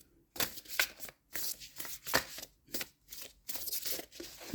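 Tarot cards shuffled in a cramped space between a table and a camera, a series of close, papery riffling bursts in an uneven rhythm with brief pauses between, no voices.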